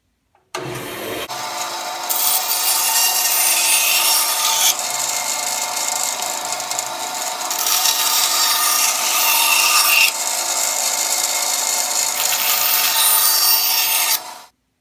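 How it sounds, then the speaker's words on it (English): A bandsaw cuts oversized wooden fidget spinner blanks, a loud continuous rasping whine close by that runs for over ten seconds before the blade spins down. "we're here at the bandsaw. And we're just going to cut these way oversized right now"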